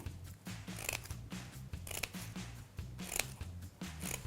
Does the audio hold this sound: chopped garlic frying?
no